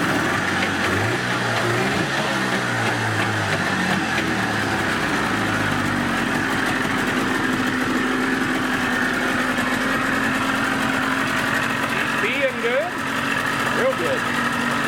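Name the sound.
30 HP Evinrude outboard motor running after pull start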